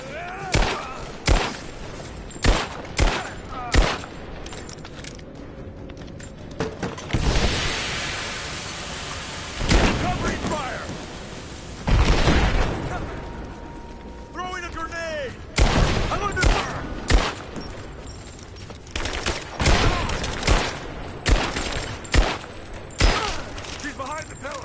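Sustained gunfire in a shooter video game cracks and rattles in sharp, irregular bursts over a steady rumbling backdrop, with occasional shouted voices mixed in.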